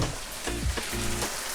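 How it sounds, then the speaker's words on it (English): Salmon fillets frying in a hot pan make a steady, close sizzle that runs the whole time, with a few soft stirring or shifting sounds partway through. "You could really hear that sizzling salmon in the back there."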